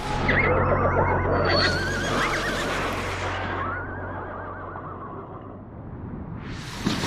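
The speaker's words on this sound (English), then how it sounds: "the desperate cries of my fellows, the screams of the horses, and the tortured rending of the wooden hull" Horses scream and whinny in a loud, chaotic audio drama effect of a shipwreck, shrill cries layered over a rumbling roar that fades toward the end.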